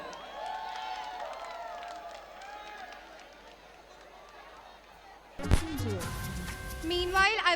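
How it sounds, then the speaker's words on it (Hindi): At a college valedictory event, a crowd breaks into loud clapping and cheering near the end, after several seconds of quieter background chatter and voices. "एक बार जोरदार तालियां बजाओ"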